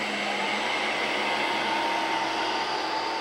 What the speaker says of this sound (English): both are going to be noticeable when you're in the room with the vacuum cleaning